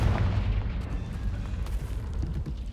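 A Confringo spell explodes in the Hogwarts Legacy video game, a short deep boom with a rumbling tail that fades over a couple of seconds.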